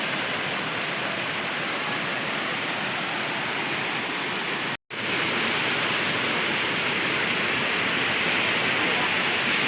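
Water rushes and roars steadily at the Ghatarani waterfall, a loud, dense, continuous wash of falling water close by, broken only by one instant cut near the middle.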